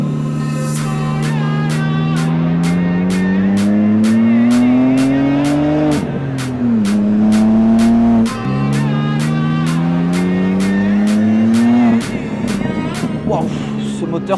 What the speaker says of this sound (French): Waouh, ce moteur pousse fort.